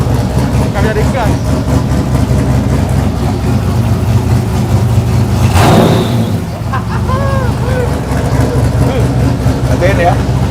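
A jeep's engine idles with a heavy, low rumble, steady and close throughout with a few brief surges, while people talk over it.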